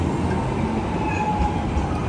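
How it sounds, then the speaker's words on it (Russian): A city tram running through central Istanbul, heard from inside as a loud, steady rumble of wheels on rails with a thin metallic whine above it, with no talking. "Сегодня у меня все дела в центре, поэтому воспользуюсь трамваем."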